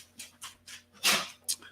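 A nearby dog gives a quick series of short sniffs and huffs followed by one louder bark-like burst, fairly faint and close, in an indoor room.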